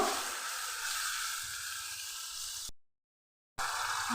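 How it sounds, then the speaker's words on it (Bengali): Cumin and coriander powder masala frying in hot oil, a steady close broadband sizzle and hiss that cuts out abruptly near the end, then resumes. "দিচ্ছি কাঁচা জিরে ধনের গুঁড়ো সমস্ত মশলাকে আমি খুব ভালো করে কষিয়ে নেব"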